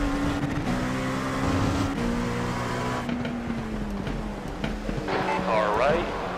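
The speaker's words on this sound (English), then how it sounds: "It's a faster class car approaching." A faster-class race car closes in during a Daytona 24-hour endurance mock run, its engine a steady droning whine that rises in pitch, heard from inside another car under spotter radio chatter.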